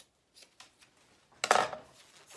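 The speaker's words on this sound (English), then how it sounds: "I'm going to trim the excess on the sides without cutting through my zipper tape." Scissors snip through excess fabric along the sides of a sewn tote bag beside the zipper tape, a few faint clicks followed by one louder, close cutting stroke in a quiet room.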